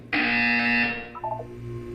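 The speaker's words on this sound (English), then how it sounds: "When you hear the buzzer, look up at the ceiling." A loud electronic buzzer from the Portal 2 video game sounds in one steady sustained blast for about a second, then cuts off, leaving faint background hum and a brief tonal blip.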